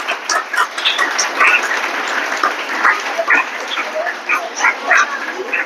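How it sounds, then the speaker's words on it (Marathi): An audience at a school program breaks into dense, steady clapping that keeps going for several seconds and fills the hall. "जोरदार टाळ्या पडत."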